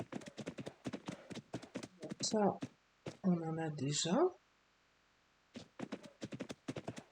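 Horse hooves clip-clop in the video game Ark: a quick, steady run of sharp hoofbeats at the start and again at the end, with someone talking in the middle.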